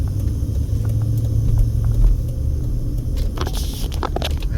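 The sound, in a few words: cross traffic cars passing on a Las Vegas street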